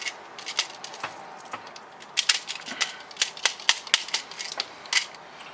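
A 3D-printed prop .22LR gun fires repeatedly, a string of sharp, light snapping shots in an irregular rhythm, close and fairly quiet with no talking.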